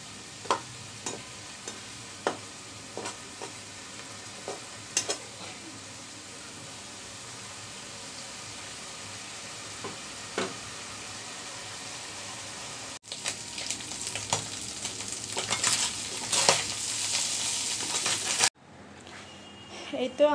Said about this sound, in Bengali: এবারে কাসকি মাছটাকে আমি ভাজা করে নিব।